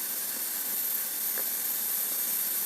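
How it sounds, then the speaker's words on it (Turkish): A Fissler Vitaquick Green Point 6 L pressure cooker vents steam through its valve as a steady, soft, continuous hiss that holds at an even level throughout. "Artık buradan buhar vermeye başladı."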